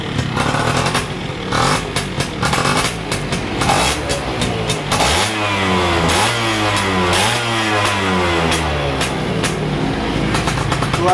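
A Yamaha F1ZR motorcycle engine runs close by, revving up and dropping back repeatedly with uneven popping and a rough, sputtering idle between blips.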